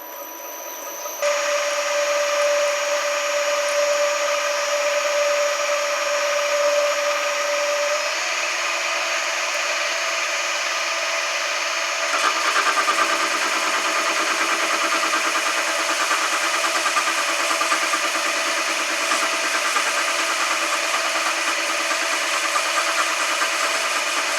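Cast bell bronze being cut with a metal cutter, shedding bronze shavings: a steady, loud machining drone with sustained high whining tones that runs throughout and shifts in pitch partway through, with no talking.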